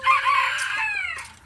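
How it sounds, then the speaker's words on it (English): Chickens vocalising while eating a snack, a drawn-out nasal crowing-like call with a brief second cry, close and fairly loud, with no talk over it. "watch the chickens enjoying their snack"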